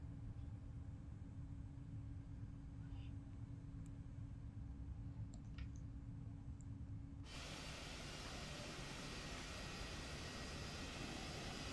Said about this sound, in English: I think it's time to start up engine number 2.